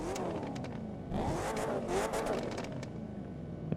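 A video game sports car engine in The Crew 2 cranks and catches, then revs up loudly with a rough, rising growl and a few sharp crackles near the end.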